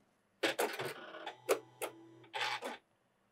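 A Janome computerized sewing machine powers on, giving a short run of chirping electronic beeps and small mechanical clicks, close and clear in a quiet room.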